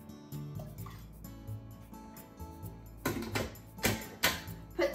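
Water poured into a pressure cooker pot holding brown rice for Japanese genmai, a thin splashing pour that swells louder in bursts toward the end over a faint background hum.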